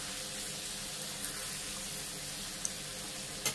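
Washing water from a jar is added bit by bit to cauliflower stalk chorchori sautéing in a pan, giving a steady hissing sizzle throughout, with a few faint clinks and a louder knock near the end.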